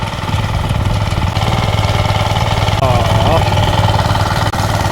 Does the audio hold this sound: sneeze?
no